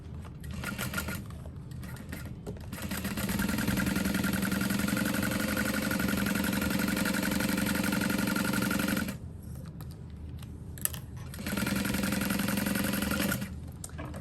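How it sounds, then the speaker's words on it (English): A sewing machine stitches clear vinyl for a tote bag, running in a steady mechanical whir for several seconds, pausing briefly, then starting again for a shorter back-stitching burst. "I'm going to back stitch where my shorter piece ends"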